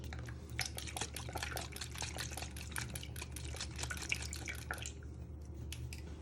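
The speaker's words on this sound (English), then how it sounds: "you just want to add in a little bit of soy sauce" Soy sauce trickling into a melted honey and butter glaze, a quiet patter of drips and small splashes close by over a low steady hum, thinning out toward the end.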